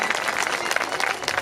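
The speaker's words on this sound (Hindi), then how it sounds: "एक बार जोरदार ताली बजा करके इनका स्वागत" An audience at a Bhagwat Katha religious gathering claps loudly to welcome a guest, a dense, continuous burst of applause close by.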